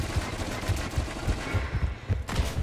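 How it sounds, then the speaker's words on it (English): Rapid bursts of suppressed gunfire from Liara's weapon in Mass Effect 3 Legendary Edition, a steady rhythm of muffled low thumps repeating about every half second, loud and close with no talk over it. "the weapon that Liara has sounds awful"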